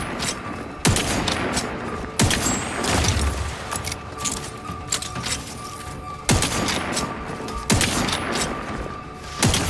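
Rockets fire in The Outer Worlds 2 amid a firefight, sharp loud blasts recurring at irregular intervals over a dense bed of rapid gunfire and mechanical clatter.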